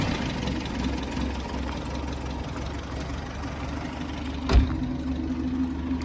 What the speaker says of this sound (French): Un excellent ralenti.